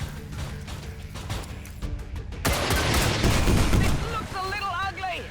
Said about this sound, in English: With follow-up fire from the turret.